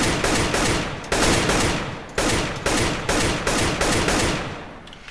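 Rapid automatic gunfire in the Aim Botz training map of a video game, loud close bursts of shots with brief pauses between several sprays, no voices.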